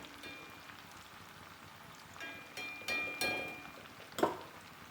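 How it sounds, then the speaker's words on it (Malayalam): Jackfruit chips frying in hot oil, a soft, faint crackle and sizzle with a few brief louder pops toward the end, heard alone without talk. "ചക്ക വറ വറുത്തത് ഇപ്പോൾ മൊരിഞ്ഞ് വരുന്നുണ്ട്"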